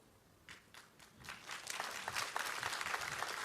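Congregation clapping during a church sermon, starting with a few scattered claps that build quickly into fuller, steady applause, fairly faint and a little distant.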